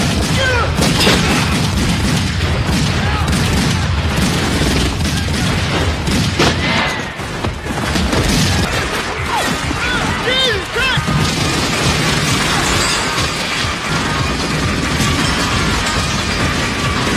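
Gunfire from a shootout scene in the film The Crow, with repeated loud bangs, booms and crashes in rapid bursts, heard beneath a voice narrating over the action.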